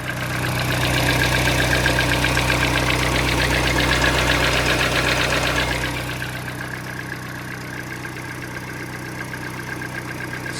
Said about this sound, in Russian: Так, пробуем заводиться.